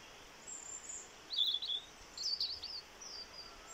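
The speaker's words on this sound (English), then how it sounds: "There's a blackbird somewhere." A blackbird sings from a cherry tree outdoors, its faint, distant chirping phrases coming in two or three brief bursts over a quiet background with no talking.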